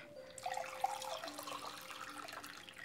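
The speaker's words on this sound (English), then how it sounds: "I'm gonna pour myself some water." Water pours into a glass close by, a short splashing stream rising in a steady rush for a couple of seconds, with nothing else over it.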